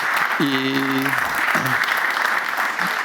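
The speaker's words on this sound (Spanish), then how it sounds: "se merece un aplauso porque ha terminado" Audience applause after a talk at a conference on public services, a steady clapping wash running the full length, briefly overlapped by a voice speaking near the start.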